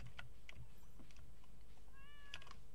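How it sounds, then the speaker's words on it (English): A short, faint cat meow rises near the end of a cozy farming game session. Soft clicking and tapping are heard throughout, against a steady background hum. "Oh, cat."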